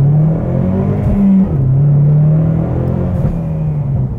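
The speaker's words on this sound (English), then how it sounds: "Let's see how this exhaust sounds here." A 2015 Ford Mustang EcoBoost exhaust revs up twice, loud and close, the engine tone rising and falling with a deep rumble and a slight crackle.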